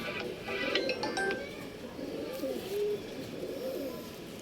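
Pigeons kept for sale in Bangalore coo repeatedly in low throaty phrases, with a few metallic clinks early on and faint background noise.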